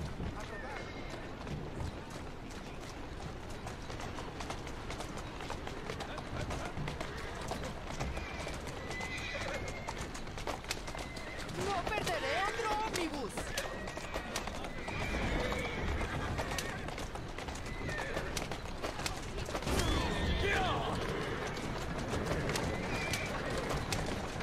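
A horse in Assassin's Creed Syndicate gallops with steady clip-clopping hooves and lets out several loud neighs and whinnies, over ambient game sounds and occasional speech.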